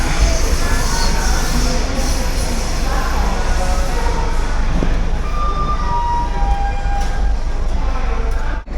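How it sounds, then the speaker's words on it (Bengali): The Kalka Mail train running just after leaving Mirzapur, a loud continuous rumble and rattle heard from inside the carriage, with occasional faint squeals over the steady noise. "মির্জাপুর থেকে ট্রেন ছেড়ে দিল"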